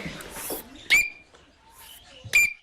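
Two sharp, bright whistled notes, about a second and a half apart, with quiet rustling before them: a person imitating the ringing call of an Australian bellbird.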